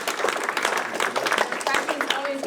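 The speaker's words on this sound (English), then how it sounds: "Refreshments always get an applause." Audience members at a historical homestead evening program clap for the volunteers who brought refreshments, a moderately loud burst of uneven clapping mixed with voices talking.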